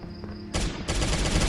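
A rapid burst of gunfire comes from the Jurassic Survival video game, cracking loud and close in two quick bursts after a quieter lead-in.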